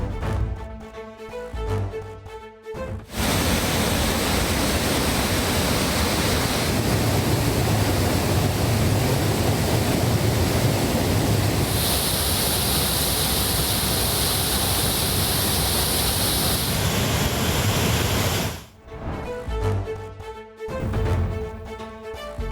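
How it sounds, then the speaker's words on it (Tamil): Manimuthar waterfall in flood after heavy monsoon rain in the Western Ghats, a loud, steady roaring rush of water that fills the scene, with quieter background sounds briefly before and after. "மேற்கு தொடர்ச்சி மலைப்பகுதியில் பெய்து வரும் கனமழையால் மணிமுத்தாறு அருவியில் 3வது நாளாக வெள்ளப்பெருக்கு"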